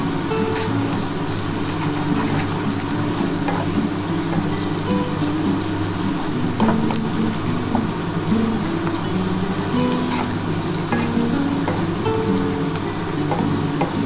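Onions and mutton fry in a pan for a thin mutton-and-potato curry, giving a loud, continuous close-up sizzle with occasional crackles and faint stirring scrapes throughout.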